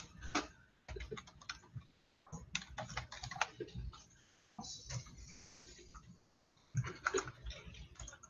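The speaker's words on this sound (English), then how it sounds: "I'm typing too fast." Fast bursts of typing clatter on a computer keyboard, close and rapid, separated by short pauses.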